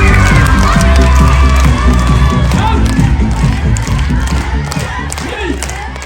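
Audience of children cheering and clapping, loud and close, with excited shouts, high voices and thumps that slowly die down.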